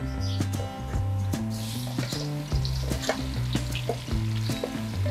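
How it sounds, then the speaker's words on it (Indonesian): Garlic frying in a pan gives a close, steady sizzle, with soft stirring knocks at intervals and background music running underneath. "pertama kita masak adalah bawang putihnya dulu"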